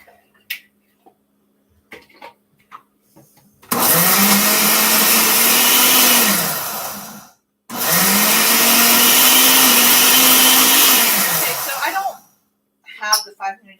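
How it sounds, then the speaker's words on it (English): A cheap $40 blender pureeing hummus with a tomato added runs in two loud bursts of roughly three and four seconds, its motor pitch steady then dropping as it stops, with brief quiet kitchen sounds before and after. "I think I'm gonna put one tomato in with it to just puree it better."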